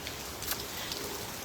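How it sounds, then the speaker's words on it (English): Heavy pouring rain at an outdoor beach resort, a dense steady hiss of drops on surfaces close by, with no voices. "it is pouring, as you can see, and it's still beautiful, even in the pouring rain"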